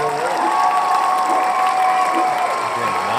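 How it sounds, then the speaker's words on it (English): Steady, loud applause rolls on without a break from a crowd at a live podcast show, with some cheering and a tonal hum running through it. "Long applause"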